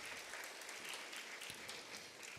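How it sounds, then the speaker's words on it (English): Audience applause for a panel moderator at a healthcare summit in Hyderabad, a dense, steady wash of clapping from a large crowd, fairly faint and distant, with no voices over it. "Can I hear a few applause for our moderator here,"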